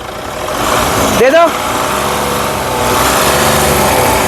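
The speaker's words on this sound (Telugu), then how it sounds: "ఇంజన్ యొక్క నాయిస్ చాలా సైలెంట్గా పర్ఫెక్ట్గా ఉంది" A 2016 Mahindra KUV100 K6 car engine idles steadily and evenly throughout, a close, continuous hum with a brief tonal whine rising in the middle.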